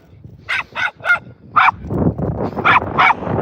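Several sharp dog barks ring out in quick bursts during an outdoor group walk with seven dogs in Edinburgh, close and loud, over a rumble of background noise and movement.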